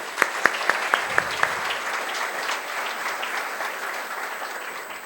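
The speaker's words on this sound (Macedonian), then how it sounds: "Имено, слободно аплауз" Audience applause fills an evening bridal runway fashion show, a dense steady wash of many hands clapping, with a few sharp, louder claps standing out near the start, continuing without letup to the end.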